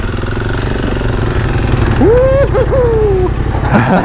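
A Yamaha Tenere 700 adventure motorcycle rumbles loudly and steadily at close range on a rocky single-track trail at an off-road park in Tigerton, Wisconsin, with a sharp whine rising over the engine near the end.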